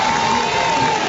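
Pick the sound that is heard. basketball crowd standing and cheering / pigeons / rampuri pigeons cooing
basketball crowd standing and cheering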